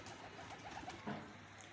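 Pigeons at a home coop giving a few soft, low coos, faint and somewhat distant over a quiet background.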